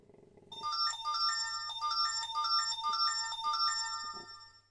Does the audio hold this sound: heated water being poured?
no